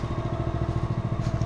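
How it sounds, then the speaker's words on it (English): A Polaris Ranger Trail Boss utility vehicle engine idles steadily nearby, a rapid even chugging pulse with a slight clattery edge and no voices. "The engine is running better and better. It's running smoother and smoother on the Ranger Trail Boss."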